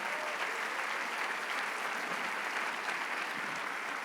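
Sustained audience applause at a church service, a dense, steady wash of many hands clapping with no talk over it.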